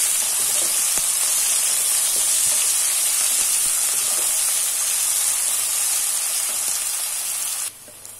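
Steady, loud sizzling of onions frying in hot oil, a dense continuous crackle and hiss that cuts off abruptly near the end.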